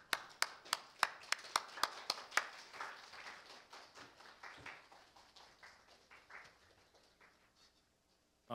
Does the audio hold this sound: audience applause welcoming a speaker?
yes